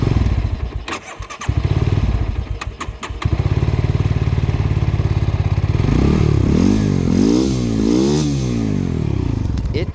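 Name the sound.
quad bike engine starting and running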